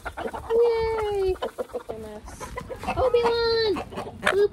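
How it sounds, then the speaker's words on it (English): Hens clucking and squawking nearby in drawn-out, wavering calls, several birds overlapping, with a brief cheer from a person. "Chickens. Chickens."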